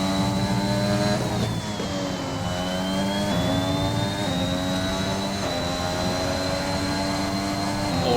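A race car engine drones steadily at high revs on a flying lap at the Austria circuit in a racing game, with a whining tone that shifts slightly through gear changes and no talk.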